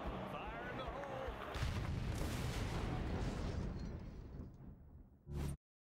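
A grenade explodes in the Xbox 360 game Blackwater with a long, rumbling blast that rolls on for several seconds and slowly fades. A short, sharp pop follows just before the sound cuts to silence.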